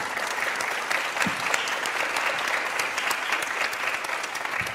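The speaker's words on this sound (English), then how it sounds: "So first, a round of applause for our panelists." A conference audience applauds the panelists at the Bucharest Forum, a steady, even patter of many hands that holds at an even level throughout, with no talk over it.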